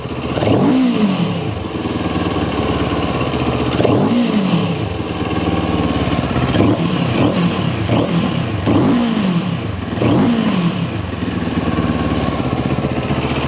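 A 2022 CFMOTO 700 CL-X motorcycle engine runs at a high electronic idle of around 1500 rpm, with a steady throb broken by four evenly spaced blips of throttle that rise and fall, close and loud with no talk.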